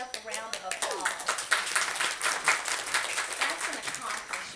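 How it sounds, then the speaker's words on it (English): A room of nursing students at an orientation claps in a burst of applause, dense, fairly close hand claps that swell and then thin out, with a voice speaking over the clapping. "Go ahead and give yourself a round of applause."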